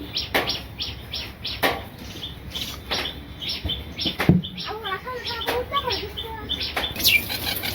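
Pigeons around a quiet village home on a sunny morning, heard as a few scattered chirps and calls over soft background noise, with faint voices and some light knocks.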